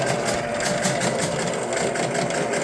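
The score motor of a 1971 Williams Klondike pinball machine runs through a reset, a steady mechanical whirring and rapid clattering drone held at constant loudness.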